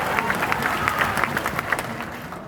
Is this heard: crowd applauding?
yes